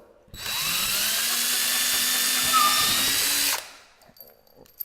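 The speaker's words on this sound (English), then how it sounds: "So now we have our holes pre-drilled." A power drill pre-drills holes into wood in one continuous burst of roughly three seconds. The whine is loud and close and rises slightly in pitch, and it stops abruptly into near silence with a faint click at the end.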